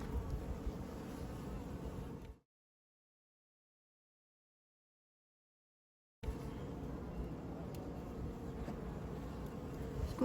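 Honey bees buzz steadily at an opened top bar hive during a January inspection, a dense close drone that cuts out into silence for several seconds midway before resuming just as loud.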